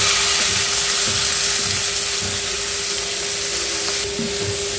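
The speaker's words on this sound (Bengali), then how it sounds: "শাক ঢেলে দিব এটার মধ্যে।" Data greens hit a hot pan with fried onion and dried chilli and sizzle loudly and steadily up close, a broad hiss with faint stirring knocks underneath and no voices.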